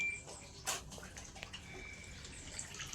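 Water rushes into a TCL automatic washing machine right after it starts, a steady hissing flow with a brief splash near the start and no voices.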